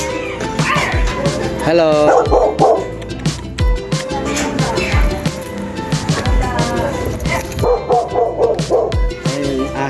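A dog barks repeatedly in sharp yips and short bow-wows, mixed with whimpering whines, close and loud, while a person talks and greets over it.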